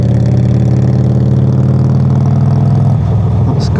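A new motorcycle engine running loud and close with a deep, steady throbbing note that drops in pitch near the end as it downshifts.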